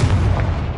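A Confringo fire spell from Hogwarts Legacy bursts in one loud, deep, booming blast that rumbles close up for a fraction of a second.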